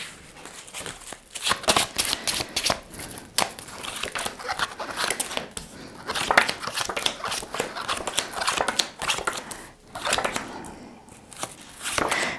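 Tarot cards being shuffled by hand in quick, repeated riffling bursts that crackle and flutter close up, with brief pauses between.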